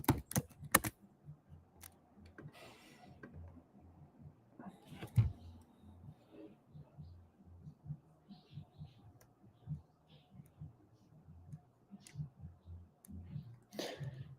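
Soft, scattered keystrokes on a computer keyboard continue quietly throughout, with a few louder clicks near the start, around the five-second mark and at the end, while low murmur sits in the background.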